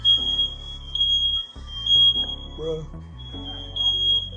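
A house smoke alarm goes off after fireworks are set off indoors, sounding a loud, shrill, continuous tone beneath a man's brief speech and other lower sounds.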